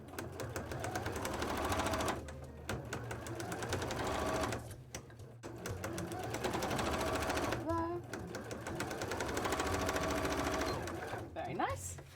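A sewing machine stitches a cosplay headpiece in fast, loud, close bursts of needle rattle, pausing briefly a few times between runs.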